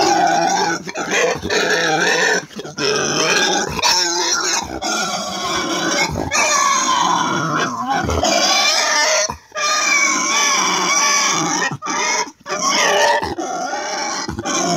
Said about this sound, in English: Let's take a look at a pig screaming.